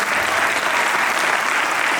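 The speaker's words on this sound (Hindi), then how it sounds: "इनके लिए जोरदार ताली।" A theatre audience gives the play's music director a burst of dense, continuous applause, many hands clapping loudly and evenly throughout.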